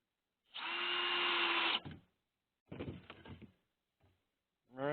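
A cordless power drill drives screws into a 2x6 on a wooden frame: one steady whirring run of about a second, then a shorter, rougher burst as the screw seats, with a brief tap and another start at the end.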